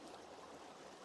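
Agua Caliente Creek, a small stream on a hillside trail, flows downhill with a faint, steady wash of running water and no other sounds.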